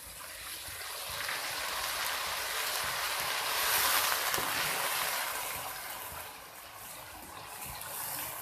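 Water pours into a pan of fried garlic, ginger and onion, making a steady broadband rush and sizzle that swells to a peak midway and then eases off, with no talking over it.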